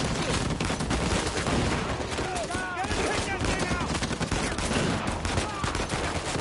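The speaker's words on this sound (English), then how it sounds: "Sam! Watch the turret!" Turret gunfire in the action video game Uncharted 4, dense rapid bursts of shots and impacts crackling loudly and almost without pause, with brief shouted voices mixed in.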